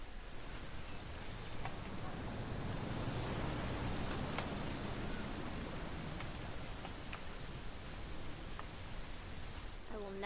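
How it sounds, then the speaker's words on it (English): Rain pours in the game What Remains of Edith Finch, a constant soft wash of drops on surfaces with a few sharper drips standing out, fairly quiet and steady throughout. "It's gonna rain the whole weekend, isn't it?"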